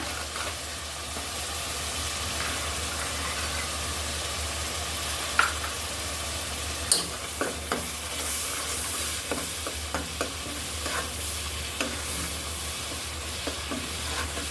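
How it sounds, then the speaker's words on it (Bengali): Fish being sautéed with spices in a pan, a steady low sizzle under intermittent scraping and tapping of a spatula against the pan, with no voices. "ভালো করে এগুলো কষিয়ে নিতে হবে ভালো করে কষিয়ে নেওয়ার পর"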